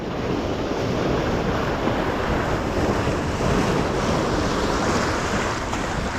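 Strong ocean waves crash and churn in a constant loud roar, with gusty wind buffeting the microphone throughout and no voices.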